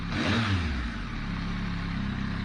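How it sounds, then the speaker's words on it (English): A Yamaha MT-09 motorcycle engine with a DNA air filter and modified airbox idles with a fast, even rumble, rising briefly at the start and then settling into a steady, quick beat. "just on tick over, and you can hear that it's revving much faster."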